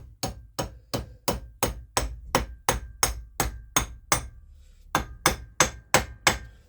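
A hammer taps a plug into a Classic Mini SPI inlet manifold, about sixteen sharp, evenly spaced metallic knocks at close range, with a brief pause before a final run of taps.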